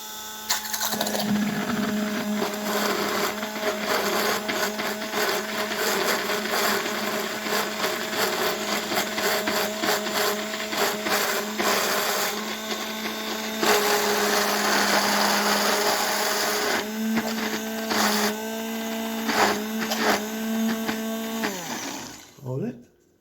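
Blender mixing egg into mayonnaise, a loud steady motor whir that rises in pitch as the speed increases from low to high, with occasional voices talking over it before the motor cuts off at the end.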